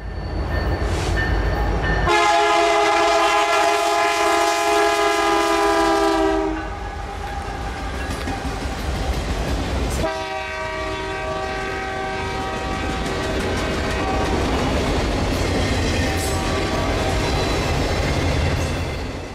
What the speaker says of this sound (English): The next being Hotshot Intermodal Service Train I-180 with a rebuilt Canadian Pacific SD70